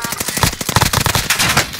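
Loud rapid bursts of automatic gunfire in the video game Warzone, sharp repeated cracks in quick succession, close and dominating, with game-style shots overlapping.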